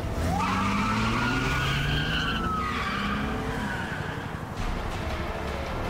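A car in the game A Way Out peels away with long screeching tire skids over a roaring engine, the squeals sweeping up and down in pitch, loud and close, with no talk.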